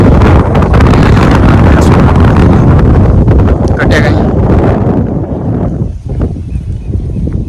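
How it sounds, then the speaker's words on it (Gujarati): Strong wind roars and buffets the microphone continuously over village farmland at dusk, a loud rushing blast that eases slightly near the end. "અને પવનનો અવાજ આવતો છે મિત્રો વધારે"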